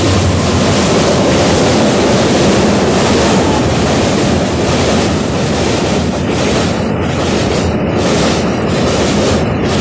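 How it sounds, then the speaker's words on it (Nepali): A loud, continuous roar and rumble of a train passing close by near the Torsa river, with wind buffeting the microphone; no voices. "ओ माय गॉड ट्रेन आयो"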